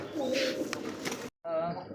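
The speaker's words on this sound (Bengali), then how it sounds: "সিঙ্গেল একটা নর কবুতর ডাকটা দেখেন অস্থির ডাক এটা" A male pigeon gives a deep, throaty coo, a drawn-out rolling call repeated after a brief pause, close by at a pigeon farm with some background voices.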